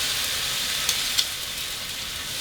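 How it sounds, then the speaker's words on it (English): Chiles sizzling as they grill for a chile relleno burrito: a steady bright hiss and crackle, close and even, with two small pops partway through and no talking. "just grill them a little bit just to bring out the flavors"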